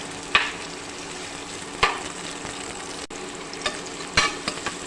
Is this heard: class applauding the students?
no